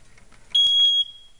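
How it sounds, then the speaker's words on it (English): A smoke alarm is tested during a home inspection, letting out one short, piercing high-pitched electronic beep for about half a second against a quiet room. "Fire alarm."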